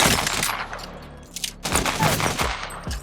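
A P2020 pistol in the video game Apex Legends fired rapidly, with a quick burst of close, loud shots, a short pause, then another volley of rapid cracks.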